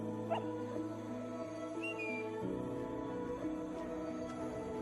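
A wolf cub in the game Neva gives soft, faint whimpers and high yips over a steady low musical drone, the small cries scattered and brief rather than continuous.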